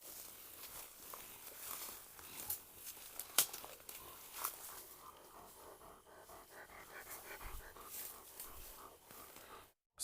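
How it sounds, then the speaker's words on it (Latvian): Dogs panting and sniffing close by in a forest at night, a steady rapid breathy rhythm with rustling and scattered footsteps through undergrowth, no voices. "Skaties, suņi ož gan no labās, gan no kreisās puses."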